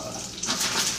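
Water poured into a hot pot of frying frozen dumplings gives a brief, bright hiss and sizzle that rises sharply midway and stays loud.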